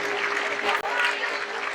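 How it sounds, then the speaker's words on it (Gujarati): A crowd claps to welcome Gujarat's chief minister at a public ceremony in Vadiyavir, Idar, in one brief burst of steady, dense applause. "આપણે તાળીઓથી વધાવીશું"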